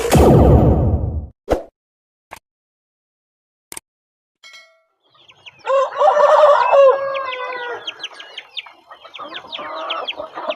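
Free-range kampung chickens cluck and crow at close range, a loud burst of clucking opening the clip, then after a quiet pause a rooster's crowing and hens' overlapping calls fill the second half.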